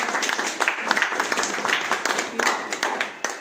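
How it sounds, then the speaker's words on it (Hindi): Agents at an insurance seminar give a lively round of applause, with crisp, uneven individual claps close by throughout. "एक बार आप स्वयं के लिए जोरदार ताली"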